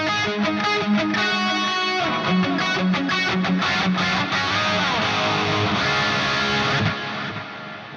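An electric guitar through an Axe Fx III with a big gated reverb and quarter-note panning delay plays a run of bright repeated notes and chords, ringing and echoing loudly before cutting off near the end.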